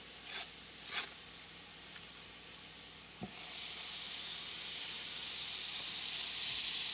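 Butter melting over browned onions in a hot pan gives off a steady broadband sizzle that swells suddenly midway and holds loud to the end, after a few faint clicks and scrapes at the start.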